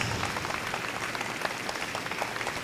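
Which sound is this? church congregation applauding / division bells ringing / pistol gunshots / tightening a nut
church congregation applauding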